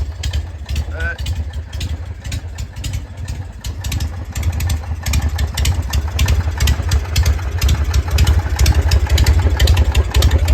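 A 1981 Harley-Davidson FX Shovelhead with newly fitted exhaust idles close by, a loud lumpy rhythmic thumping that builds slightly toward the end, with a voice talking over it briefly.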